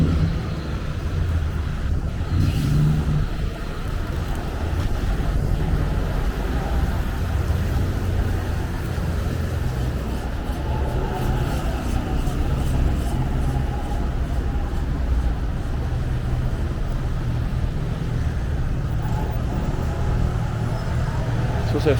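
Relentless road traffic in Knightsbridge, London, a steady dense rumble of passing vehicles and engines heard at street level, continuous and moderately loud throughout.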